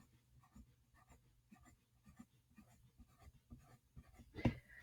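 Pen scratching on paper while drawing a zipper with parallel lines and V shapes, quiet close strokes in an irregular rhythm with a louder bump near the end, no talk.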